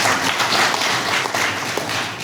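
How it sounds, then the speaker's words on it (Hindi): Audience applauding at a Ram Katha religious discourse gathering: a dense crowd of clapping that swells and ebbs, sustained and fairly loud from start to finish. "ताली बजाएं तो बात करें।"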